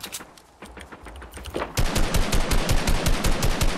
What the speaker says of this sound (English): We're getting shot by another team on the mountain.